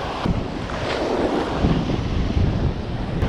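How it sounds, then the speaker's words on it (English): Strong wind buffets the microphone on a beach in Orange Beach, Alabama, during surf fishing, a steady roaring rush with breaking surf blended underneath and no voices. "Seems a bit windier over here than it was down in Fort Morgan."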